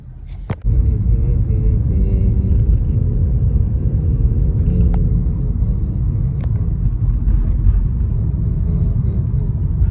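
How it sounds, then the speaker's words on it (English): A Metro city bus drives by on an Austin street, a loud, close, deep engine rumble that starts abruptly after a sharp knock and holds steady, with a few faint clicks on top. "And then we got the Metro bus going too."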